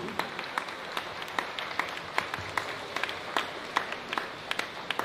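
Steady applause from a school audience at a National Day celebration, a dense wash of many hands clapping at even loudness with sharper individual claps popping out throughout, no voices standing out.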